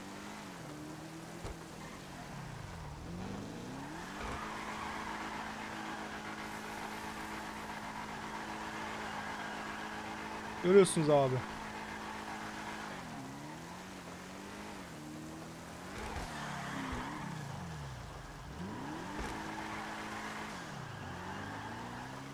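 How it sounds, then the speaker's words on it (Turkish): A car in the GTA Online video game drifting and skidding through the rain, its engine droning and pitch sweeping up and down in long slides, with a sharp impact partway through and someone briefly speaking. "Araba kendi kendine kayıyor ya. Öyle böyle değil arkadaşlar. Bir de yağmur yağıyor, muhteşem kayıyor bu sefer."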